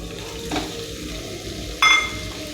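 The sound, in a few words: khoya sautéed and stirred in ghee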